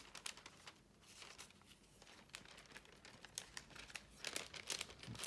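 Paper being creased and folded into an origami balloon lantern, a steady run of close crinkles and crisp crackles that grow busier and louder toward the end, with no voices.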